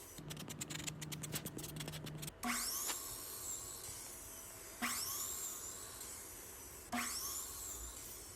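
Wood trim pieces, 1x2 stock, cut with a power saw in three separate passes, each a sharp whining bite that winds down, following a steady motor hum and rapid clicking at the start.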